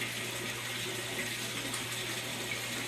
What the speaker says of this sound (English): you can there see the water as it's coming down the waterfall, going through the river.